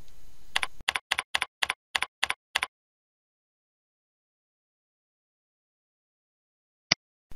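A computer keyboard is typed on in a quick run of eight sharp, evenly spaced keystrokes, followed by a long silence and one final isolated key press, close and clear with no talk.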